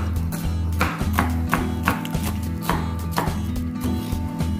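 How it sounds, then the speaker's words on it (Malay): Rapid, steady knife chopping spring onions on a cutting board, sharp taps in quick succession over a low steady hum, with no talking. "Potong daun bawang kecil-kecil."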